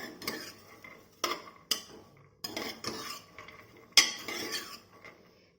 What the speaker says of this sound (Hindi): 3 मिनट के लिए हम इसे लगातार चलाते हुए भून लेंगे।